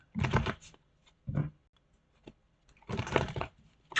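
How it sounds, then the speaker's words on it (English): Tarot cards shuffled by hand in three quick bursts of riffling and slapping, near and fairly soft, separated by short quiet gaps and a few tiny clicks. "let's do one more shuffle"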